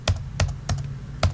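Keystrokes on a computer keyboard while working in Marg accounting software, four crisp separate taps at an even pace, close and clear with no talking.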